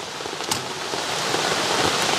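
Rain pours steadily over an outdoor cooking fire where cornmeal dumplings and curry chicken are being made, a dense, even hiss of drops on surfaces that holds close and constant, with no talking.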